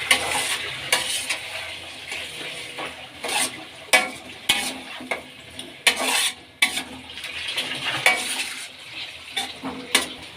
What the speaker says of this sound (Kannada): ಈಗ ಇವನ್ನೆಲ್ಲ ಮಿಕ್ಸ್ ಮಾಡೋಣ.